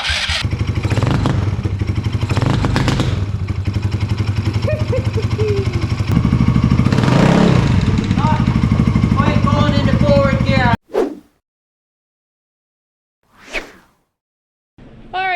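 A Polaris RZR 170 engine runs loud and close for about ten seconds, buzzing and revving with rising and falling pitch, then cuts out, leaving a couple of brief bursts of noise.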